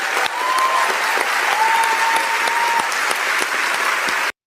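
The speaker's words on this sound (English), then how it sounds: "it definitely seems like the crowd's clapping" A crowd applauds after a speech of solidarity with Palestine, with loud, sustained clapping and a few scattered cheers that continue evenly before cutting off abruptly.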